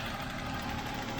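A BMW E36 engine idling, a low steady mechanical hum with faint rhythmic pulsing, quiet and continuous with no talking.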